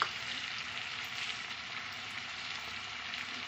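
Prawns frying in a pan with potatoes and tomato, a steady, dense sizzle that holds evenly throughout with no pauses.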